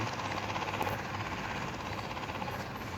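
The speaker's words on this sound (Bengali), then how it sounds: "ফার্স্ট পার্সনে হেলিকপ্টার চালানো মজাটাই আলাদা গাইস" A helicopter in a first-person video game, Indian Bike Riding 3D, gives a steady, loud rotor drone with dense, rapid blade chop that holds evenly throughout, with no talking.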